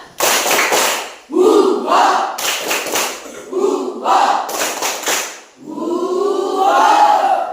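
Indoor audience in an Indonesian gathering performing a rhythmic clapping chant, bursts of patterned claps and shouted responses, loud and close, with a leader's voice between rounds.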